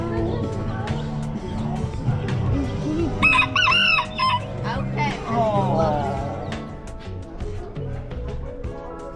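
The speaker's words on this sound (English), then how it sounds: "You can even buy a rooster at this flea market." A rooster crows once at an outdoor flea market, a loud rising-and-falling call cutting through the middle of steady crowd chatter and nearby voices.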